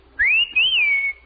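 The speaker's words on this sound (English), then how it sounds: "I whistled for the bus." A person gives one clear whistle to stop a bus, a single high sustained tone that rises, dips briefly and glides up and down before cutting off, alone and close.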